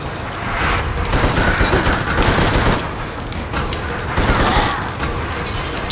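Tommy gun firing in the horror shooter The Suffering: loud, rapid automatic bursts with clattering mechanical rattle, coming in several sustained volleys separated by short lulls.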